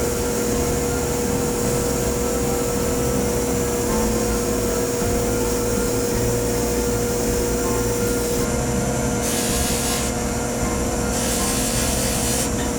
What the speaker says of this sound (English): we use a series of polishing compounds to refinish the surface of the metal